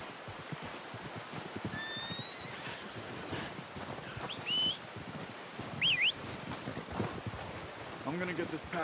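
A horse in the video game Red Dead Redemption, with a couple of short whinnies and scattered hoof clip-clops over steady outdoor ambience and a few bird chirps, fairly close.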